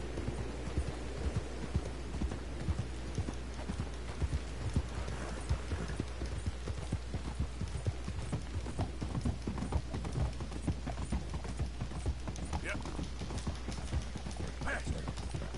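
Steady clip-clop of a horse galloping in Red Dead Redemption 2, the hoofbeats rhythmic and continuous over a low game hum, with a brief whinny near the end.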